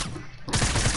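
Rapid gunfire rattles in a video game, a short loud burst of shots that grows denser partway through, with no talk.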